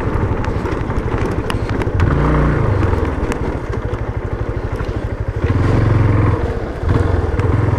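A motorcycle ridden along a rural road, its engine droning loud and close with rising and falling revs and a couple of surges of acceleration, no talk.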